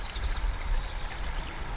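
Fast-flowing water of a winter stream, a steady close rushing and gurgling wash that holds an even level throughout with no voices.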